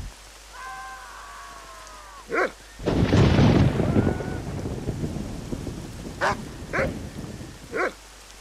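A thunderstorm in the video game Red Dead Redemption rumbles with a heavy thunderclap crashing loudly mid-way over steady rain, while a dog barks in short sharp bursts before and after.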